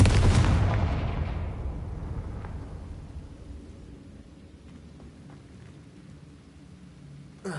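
A Confringo blasting curse detonates in Hogwarts Legacy, a loud booming explosion at the start that rolls off into a long fading rumble.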